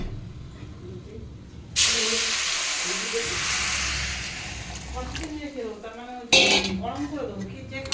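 Water splashes into a hot pan while upma cooks, setting off a sudden loud hiss of steam that fades over a few seconds before a second burst, with utensils clinking and someone talking.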